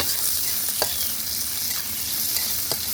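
Chopped onion frying in a very hot pan over an outdoor wood-fired clay stove, giving a steady, loud broadband sizzle with a few sharp clicks from spoon contact scattered through.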